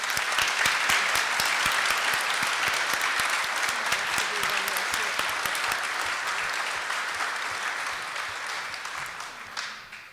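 Audience applause at an opening general session fills the hall, dense and steady clapping from a large crowd that holds strong and then gradually thins toward the end.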